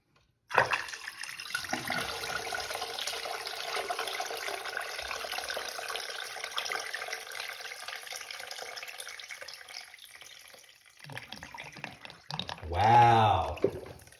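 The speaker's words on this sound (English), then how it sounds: "so here's the second flush and see if it will." A toilet flushes loudly and steadily for about eleven seconds, a continuous rush of water that tapers off, followed by a brief burst of sound near the end as the bowl slightly overflows.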